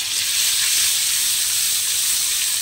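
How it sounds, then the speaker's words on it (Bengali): Thickly cut onions and chillies fry in hot oil, a loud, close, steady sizzle with a hissing edge that stays even throughout, no voices over it. "এবারে লাল করে ভেজে নেব।"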